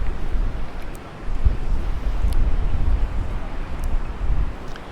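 Breezy wind gusting across the beach at Playa de Palma in Can Pastilla, Mallorca, a loud rushing buffet on the microphone with surging waves beneath and no talking.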